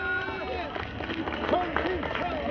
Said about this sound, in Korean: 여러분 정신 차리라고 여러분 박수 한번 해줍시다